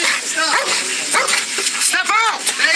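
A dog barks and yips excitedly in several rapid bursts at close range during a police arrest, its high yelping calls mixed with shouted voices.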